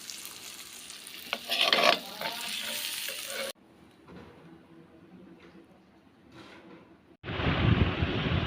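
Small fish frying in a pan in a home kitchen, sizzling with stirring scrapes, fading to a quieter hiss midway, then a loud bright burst of sizzle at the end.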